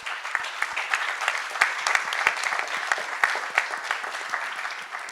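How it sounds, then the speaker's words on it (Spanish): Audience applause at a Spanish-language political discussion on the 2018–2019 elections, a dense steady wash of many hands clapping for about five seconds, moderately loud and continuous with no talk over it. "un aplauso, por favor"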